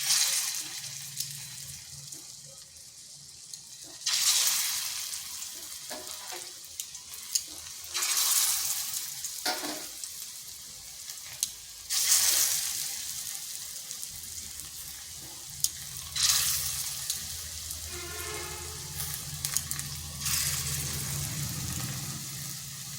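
Papaya fritters (bora) sizzle in a pan as they go into hot oil, with repeated bursts of loud crackling frying rising and fading over a steady low sizzle, no talk.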